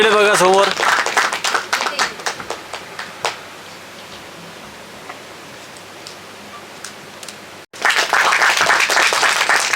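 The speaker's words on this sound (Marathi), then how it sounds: "एकदा जोरदार टाळ्या झाल्या पाहिजे दोन्ही डेब्युटंटसाठी" Audience at a Marathi song launch event claps for the debutants: scattered claps under a speaking voice at first, then a dense, loud burst of applause near the end.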